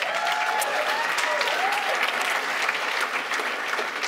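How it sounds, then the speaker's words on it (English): Full room of applause at a company sales gathering, steady and continuous, with faint cheering voices rising through the clapping. "can you clap for that?"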